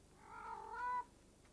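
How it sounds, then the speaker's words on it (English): A cat caterwauls, with competing males around a female on heat: one drawn-out, wavering yowl that rises and then breaks off, fairly faint against a quiet background. "The caterwauling between competing males for this promiscuous female were all signs of the supernatural."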